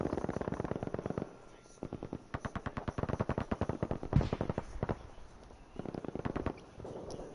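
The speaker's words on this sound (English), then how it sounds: "We've got guns galore." Rapid bursts of automatic gunfire crackle in a multiplayer video game match, with rhythmic volleys in several groups separated by short pauses, fairly close and loud.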